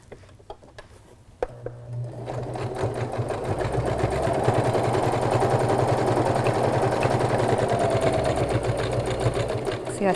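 A sewing machine stitches a pillow, starting slowly with a few isolated clicks, then settling into a fast, steady rapid-fire needle rhythm that holds loud and close to the end.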